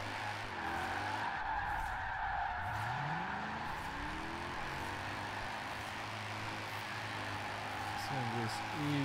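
A Mercedes C63 AMG drift build in Forza Horizon 4 slides with tires screeching and the engine revving and swooping in pitch, loud and continuous, with someone talking over it.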